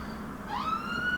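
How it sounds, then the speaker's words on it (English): An emergency siren wails outside, a rising tonal sweep heard from a distance at modest volume over a faint background hum. "I do apologise about the sirens going on outside."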